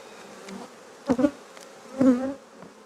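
Honeybees buzz around a pre-winter apiary, a steady hum with two louder swells as bees pass close to the listener, alone with no voices.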